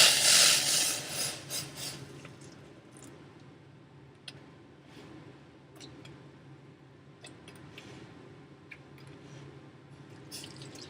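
Boiling water is poured slowly into chocolate cake batter with a brief hissing rush at first, then settles into soft trickling, dripping and faint scraping sounds.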